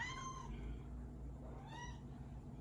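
A restless female house cat meows indoors, two rising-and-falling calls, one near the start and a shorter one toward the end, heard fairly clearly over a low steady room hum with no talking.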